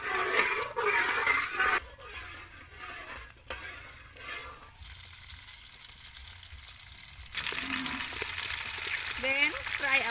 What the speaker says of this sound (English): Then fry our fish.